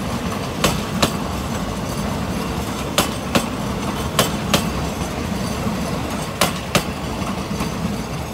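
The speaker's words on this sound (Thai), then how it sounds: "นี่ครับรอยต่อน็อตหลวมนะครับ" A Thai train on the southern line rolls over rail joints with loose bolts, giving sharp paired clacks that repeat at intervals over a steady rumble of wheels and carriage noise, with no talk.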